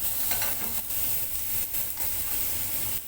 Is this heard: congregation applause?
no